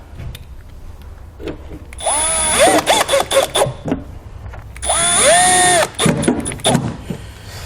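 Power tool driving taillight fasteners back into a towed 2019 vehicle, two close bursts of whirring with rising and falling pitch as the motor spins up and slows, each followed by scattered clicks and handling noise.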